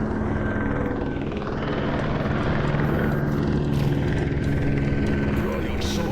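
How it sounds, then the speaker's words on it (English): A helicopter's steady rotor thrum and whine fills the scene continuously, loud and close, without pause, in the VR game Vertigo 2. "Time to fight the helicopter"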